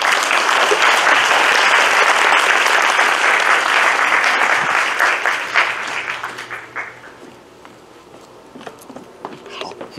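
Sustained audience applause welcoming a distinguished academician lecturer at a university lecture hall, loud and dense for about six seconds before thinning into scattered claps and fading away.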